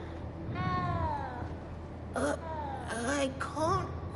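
A cat in the Hogwarts Legacy video game meows several times, one long drawn-out call followed by three shorter, plaintive meows, clear and close.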